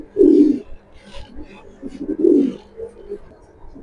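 Club racing pigeons kept in pairs coo nearby in deep, rounded bursts, with a voice present in the background.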